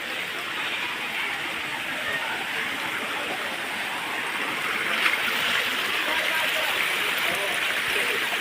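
A small stream or waterfall spills over rocks on a hillside near a little cave, giving a steady, unbroken rush of water that stays at an even, fairly close level throughout.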